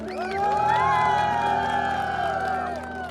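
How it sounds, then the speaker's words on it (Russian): A crowd gathered around a Ukrainian volunteer team that evacuates people and animals cheers and whoops in a loud, sustained burst, with voices shouting over it. "Давайте все вместе сделаем аплодисменты команде, ребят, все вместе!"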